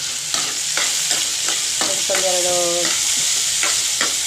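Whole spices such as ajwain, cinnamon stick and cardamom fry in hot oil in a pan, giving a steady close sizzle broken by repeated stirring scrapes, with a brief voice speaking over it.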